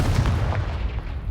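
A Confringo blast spell cast in Hogwarts Legacy booms as a deep, rumbling explosion-like burst lasting over a second, loud and heavy in the low end with no talk over it.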